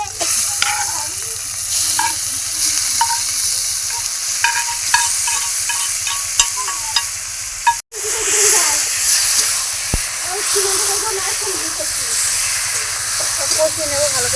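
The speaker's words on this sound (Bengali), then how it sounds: "এবার ম্যারিনেট করা মাংসটা দিয়ে দেবো।" Marinated chicken sizzling and frying in a hot pan, a steady loud hiss with occasional stirring scrapes, going on without a break.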